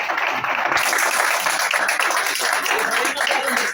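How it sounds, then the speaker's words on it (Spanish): Audience clapping at a writers' gathering, a lively patter of hands that swells after a brief pause, with voices talking over it throughout. "Vamos a aplaudirla"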